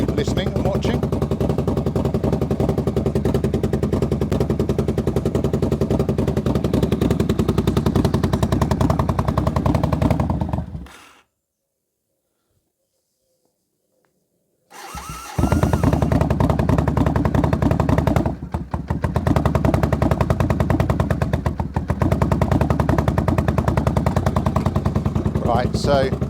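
A motorcycle engine from an unusual project bike idles steadily and loudly for about ten seconds, cuts out into near silence, then restarts and keeps running with a rough, uneven note and a couple of brief dips.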